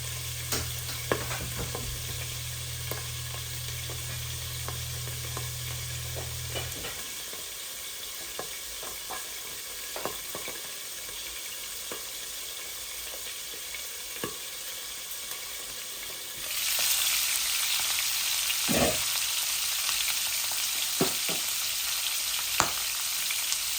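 Pangas fish frying in oil in a pan, a steady close sizzle with small crackles and pops throughout, growing louder and brighter partway through as the fish is moved, no talk.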